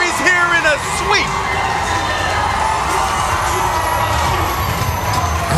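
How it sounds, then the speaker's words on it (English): Loud, continuous crowd cheering and shouting fills an esports arena as a Mobile Legends match series ends in a sweep, with excited voices and a caster talking over the roar throughout. "we can hear the crowd going break the code"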